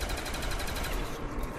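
Fast automatic gunfire in Call of Duty Black Ops zombies on Kino Der Toten, a quick even rattle of close, loud shots through the whole short burst.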